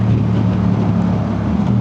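A CF Moto 800MT adventure motorcycle engine runs at high RPM on a long highway ride, a loud, unbroken, steady drone with no pauses.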